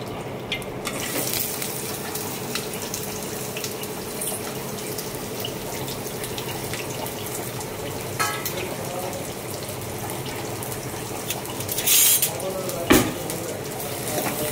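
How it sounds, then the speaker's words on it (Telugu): Onion and green chillies fry in hot oil, producing a loud, continuous sizzle close by, with occasional clinks and scraping near the end. "ఆయిల్ గరమైంది. ఇప్పుడు ఆనియన్, పచ్చిమిర్చి వేస్తున్నాను."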